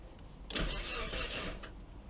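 A 100,000-mile Mazda Miata engine cranking and catching, faint starter whir building into a brief surge as the motor turns over and settles, heard at a distance with no talking.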